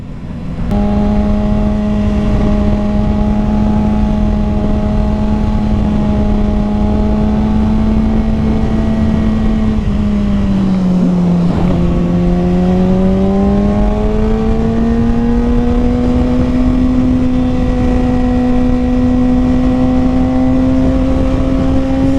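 A 2021 Kawasaki Ninja ZX6R with an M4 Street Slayer slip-on exhaust drones loudly and steadily as it rides, its engine note dipping briefly mid-run before climbing and holding again.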